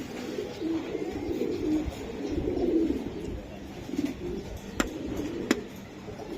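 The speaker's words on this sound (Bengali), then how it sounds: "দর্শক দেখছেন কবুতরগুলা" Pigeons, including Pakistani breeds, coo softly at a market stall, a low murmuring warble against a busy background hum, with a couple of sharp clicks near the end.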